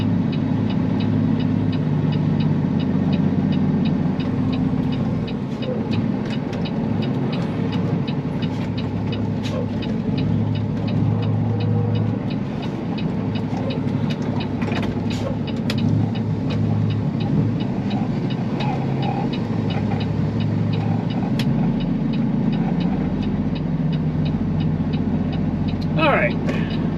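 A Peterbilt truck engine rumbles steadily at low speed while the rig swings into a dairy farm, a continuous close drone with someone talking over it throughout.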